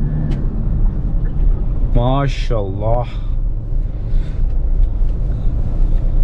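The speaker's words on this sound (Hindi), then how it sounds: "आवाज सुन इस गाड़ी की" A Toyota Hilux Revo 3.0 engine runs while driving, giving a continuous low, loud rumble throughout, with someone speaking briefly over it.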